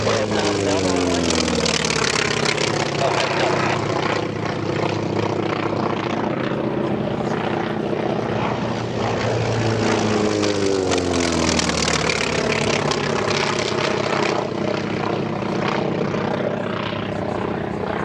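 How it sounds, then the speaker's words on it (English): T-28 and P-51 Mustang warbird propeller aircraft fly past at an airshow, their engines a continuous loud roar that swells and fades as the planes pass, with an announcer talking throughout. "Here comes some more T-28s, and out in front, the 826s are rolling back into it"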